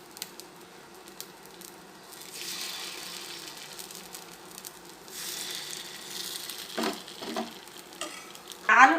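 Egg and dosa batter frying in oil in a paniyaram pan for gunta ponganalu, a soft low sizzle that swells and fades with light stirring and a brief louder clatter at the end.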